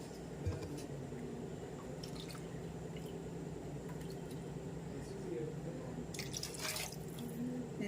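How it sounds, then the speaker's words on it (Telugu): Water poured into a pressure cooker for mutton biryani, a steady trickling and dripping pour running continuously, close up and moderately quiet, with brief louder splashes near the end. "6 కప్పులు నీళ్ళు వేసినాను, ఎందుకంటే కుక్కర్లో కదా"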